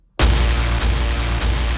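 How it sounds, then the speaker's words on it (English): Cinematic trailer hit sound effects in a Sonic Boom cue: a loud deep boom slams in after a brief silence, with two more heavy impacts following and a sustained low rumble between. "So we got the trailer hits"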